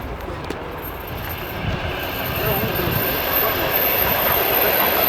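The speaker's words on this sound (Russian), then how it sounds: "Едет электричка, шумит." An electric commuter train rolls past close by, a loud sustained rumble of wheels on rails that grows heavier and steadier as it goes, with faint squeal and clatter.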